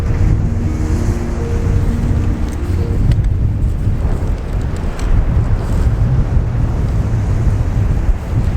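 Sea waves surge and break along the shore at Landguard Point, Felixstowe, a loud continuous rushing roar with heavy wind buffeting the microphone and a faint low hum early on.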